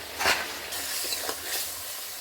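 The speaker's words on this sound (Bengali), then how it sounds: "এর সাথে শোল মাছ ভাজা দিয়ে দেওয়া হচ্ছে" Fried snakehead fish stirred into a simmering bottle gourd curry in a pan, a steady sizzle and bubbling hiss with a few scraping stirs, close and alone.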